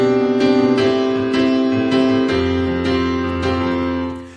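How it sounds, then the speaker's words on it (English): A keyboard plays a four-chord progression, loud, close and alone, with a new chord struck roughly every half second and held notes ringing between strikes before fading out at the end. "here's what the 4 chord progression is going to sound like"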